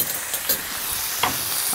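Rib eye steak sizzling in a pan with peppercorns, a steady bright hiss with a few small pops and spits, close and alone.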